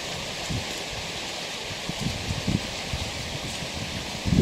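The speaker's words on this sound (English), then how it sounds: "now the wind's starting to pick up" Wind picks up through a late-autumn forest in Shenandoah National Park, making a steady, soft rustle of leaves and branches with a few faint gusty swells.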